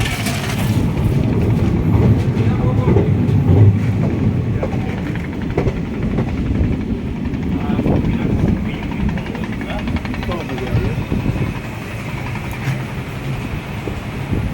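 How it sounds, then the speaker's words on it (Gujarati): A train rumbles at a small railway station, a loud, steady low roar with rattling that continues throughout while people talk over it. "નાનકડું રેલવે સ્ટેશન છે."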